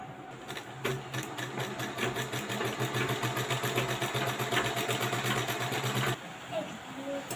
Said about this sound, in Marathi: टाचण्याने इकडे तिकडे कपडा सरकायला नको म्हणून आता मी घेते याच्यावरती शिलाई